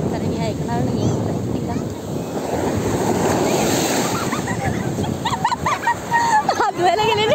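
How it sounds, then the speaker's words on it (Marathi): Sea waves surge and break steadily on the beach at Devgad, a continuous loud wash, while people talk and laugh over the surf toward the end. "हात धुवायला वाकली आणि मोठी लाट आली."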